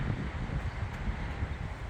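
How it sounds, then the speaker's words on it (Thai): Wind blows beside a wide shipping canal in the Netherlands, a steady rushing roar that buffets the microphone for the whole stretch. "วันนี้มีลมค่ะเพื่อน ๆ"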